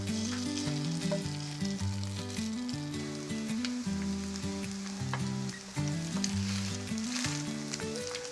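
Spoonfuls of Korean jeon batter pan-frying in plenty of oil, vegetable pancakes giving a steady close sizzle with faint crackles, under a constant backing of music and no talk.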